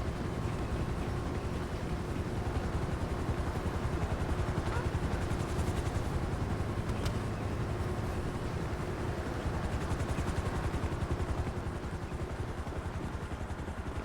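A helicopter in a video game drones with a steady, dense rotor and engine roar that fills the whole stretch at constant loudness, with faint speech buried beneath.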